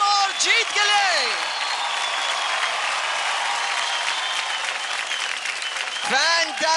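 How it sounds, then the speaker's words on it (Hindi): Studio audience at a televised children's dance show applauds after a performance, a dense sustained roar of clapping with a host's voice briefly heard over it at the start and end. "जोरदार ताली हो जाए ओम और जीत के लिए"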